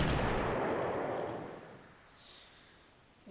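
A loud explosion booms as artillery is destroyed in the wargame Panzer Corps, its heavy blast fading over about two seconds into a low rumble, with a faint high chime after it.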